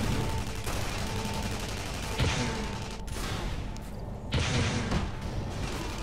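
Gunfire during a team deathmatch in the video game Tribes Ascend, sustained rapid shots under loud game noise with sharper bursts standing out at intervals.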